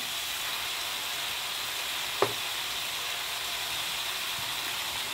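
Vegetables and sweet potatoes fry in a pan with a steady, even sizzle throughout, broken once by a brief clink of a utensil.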